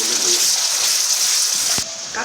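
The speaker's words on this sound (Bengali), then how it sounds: "পানি দিয়ে দিলাম" Water poured into a hot pan of frying ground spice paste and turmeric, for a cauliflower and pangas fish curry, makes a loud, steady rushing hiss that cuts off sharply near the end, leaving a quieter sizzle.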